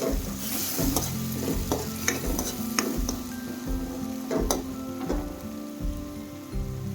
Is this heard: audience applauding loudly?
no